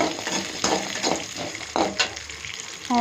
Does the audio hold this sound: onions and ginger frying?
yes